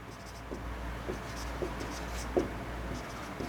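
A teacher writing on a board during a physics lesson: short scratchy strokes in an irregular rhythm, moderately close, over a low steady background hum with no talking.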